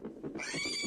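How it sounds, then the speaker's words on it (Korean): A pig grunts behind the player in the horror game Nightmare with Winnie. Several low, rough grunts run into a higher tonal sound, at a moderate level, with no talk. "뒤에서 돼지 소리가 나도 놀라지 마세요."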